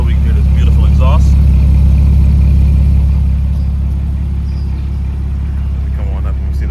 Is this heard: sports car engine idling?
yes